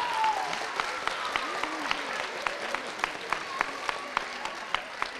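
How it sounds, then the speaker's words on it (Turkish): Audience applause at a school quiz show semi-final, a moderate wash of clapping from the hall, with distinct sharp single claps standing out in a fairly regular rhythm near the microphone. "Yine çok büyük alkışlarınızla."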